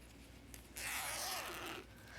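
An invisible zipper on shorts being pulled open during sewing, a short quiet scrape lasting about a second after a faint rustle, close up.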